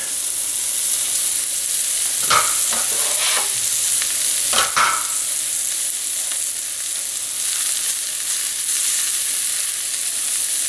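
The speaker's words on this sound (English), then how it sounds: "once the onions are brown, we're going to be adding this spinach" Spinach fries in a pan with browned onions, a steady loud sizzle and hiss running throughout, with a few sharper stirring scrapes near the start, close up and without any talking.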